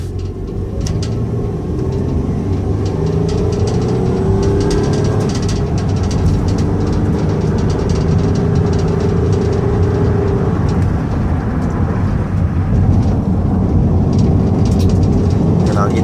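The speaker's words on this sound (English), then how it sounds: "so let's get it on the highway so you can hear it run." A 2010 Dodge Caravan SE wheelchair mobility van with 205K miles cruises at highway speed, its steady engine drone and road and wind rumble filling the cabin continuously without speech.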